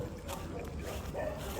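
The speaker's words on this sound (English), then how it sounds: "we've got some dogs over here as well, yeah, and they start barking" Several dogs bark and yip close by, with short, sharp bursts mixed into noisy background sound and talk.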